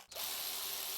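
Ratchet wrench snugging down the valve cover bolts on a 2005-2010 Scion tC over wet RTV sealant, a close, loud, continuous rasping clicking with no talk.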